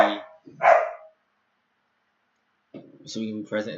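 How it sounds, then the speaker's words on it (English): Dogs indoors let out two sharp, loud barks in quick succession, then fall silent before a voice resumes speaking. "I'm sorry, I have dogs."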